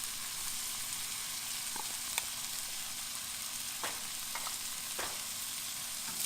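Smoked fish frying in a pan with garlic, the start of a fried rice, sizzles steadily and quietly, broken by a few sharp clicks and scrapes of a utensil, with no speech.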